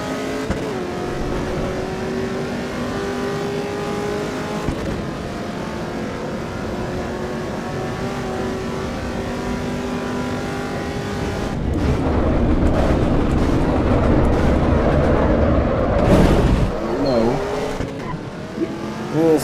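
Race car engines in Assetto Corsa EVO, a steady droning hum that swells into louder revving and acceleration with tire noise, while someone talks over the sound.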